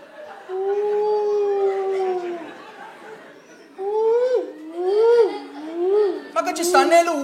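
A person imitates a wolf with long, wavering howls, first one sustained cry and then several rising and falling howls. Chatter and laughter break in near the end.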